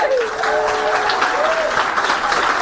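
Audience applause at a Green Party leadership announcement event: a steady, dense wash of clapping from a large crowd fills the whole stretch, with a faint tonal voice or feedback line running underneath.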